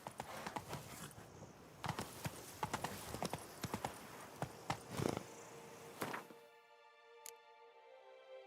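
The horse Roach clip-clops at an uneven walking pace in The Witcher 3, loud, close hoof thuds for about six seconds before they stop and a quiet tonal game sound takes over.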